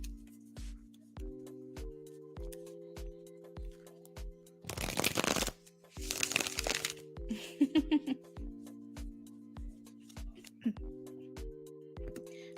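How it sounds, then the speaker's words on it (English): Tarot cards are shuffled by hand in two loud, rustling bursts, with lighter riffles and taps after them. Steady background music plays underneath, and there is no talking. "All right, Amy, shuffling for your yes, no now"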